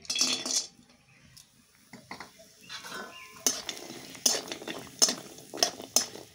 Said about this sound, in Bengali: এবার চচ্চড়ির জন্য আমি বড়িটা ভেজে নিচ্ছি